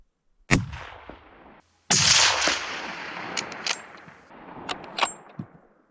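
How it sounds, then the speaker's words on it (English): A rifle shot while hunting invasive wallabies cracks loudly and nearby, then a second sharp report follows, each one ringing out with a long, fading echo across open country. "That one's back out at 150, so I'll shoot that one."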